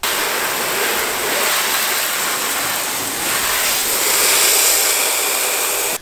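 A strong jet of water blasts over the rear end of a Mk4 Ford Mondeo during a leak test, a loud continuous hissing rush that holds steady for six seconds, no talking.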